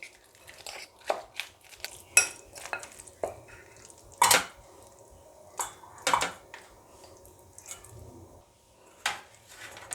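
Vermicelli cake mixture being mixed in a bowl, giving scattered soft scrapes and sharper clinks of a utensil against the bowl at an irregular pace, close by with no talking.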